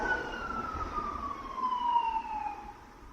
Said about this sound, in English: there's the ambulance going past